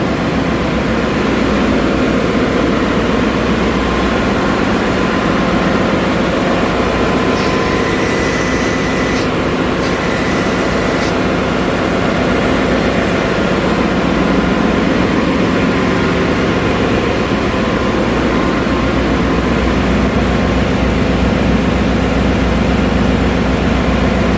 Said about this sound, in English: Blower is running. The automatic pump.